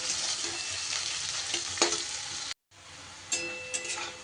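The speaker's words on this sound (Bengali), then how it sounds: "বেরেস্তার মতো করে বেশ লাল লাল করে পেঁয়াজগুলো কিন্তু আমার ভাজা হয়ে গেছে।" Onions fry in hot oil until reddish brown, giving a continuous close sizzle broken by a few stirring clatters and a brief silent gap midway.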